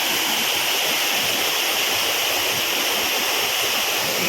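The Thirubali waterfall at Ezhakkaranad pours water in a loud, continuous rushing roar heard up close, a dense, unbroken wash with no voices.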